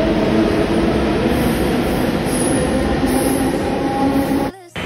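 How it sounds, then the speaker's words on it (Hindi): Delhi metro train arriving at a station platform: steady loud rumble of wheels and motors with a faint high whine, running continuously and cutting off abruptly near the end. "शायद कोई मेट्रो आ गई है"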